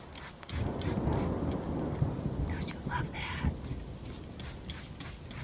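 Steady rain falls on a shade greenhouse in a backyard garden, a dense, even hiss that stays fairly quiet and continuous throughout.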